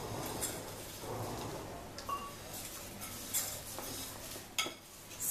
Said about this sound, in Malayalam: സേമിയ പാലിനകത്തിട്ടിട്ട് നന്നായിട്ട് അത് ഇളക്കി സേമിയ വേവിക്കുക